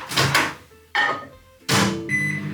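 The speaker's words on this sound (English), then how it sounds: "And now I'm gonna heat it in the microwave." A microwave oven heating a Costco chicken jalfrezi ready meal: three distinct bursts of door and button clatter, then a steady hum with a faint tonal beep near the end, close and fairly loud with no talking.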